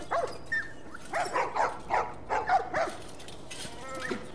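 Several dogs in The Last of Us Remastered bark and yip in short bursts at a moderate distance, mixed with whimpers and a murmur of voices in the background.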